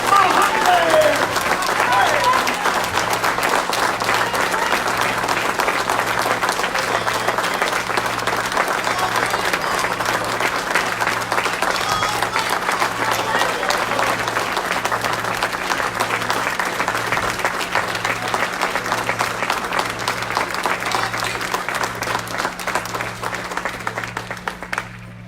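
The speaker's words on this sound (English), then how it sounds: "Let's welcome her to Atlanta with the greatest applause that we ever had anywhere." Long, sustained applause from a large audience in Atlanta welcoming Sister Dr. Ava Muhammad, dense steady clapping over a low steady hum, with crowd voices mixed in and no break across the whole stretch.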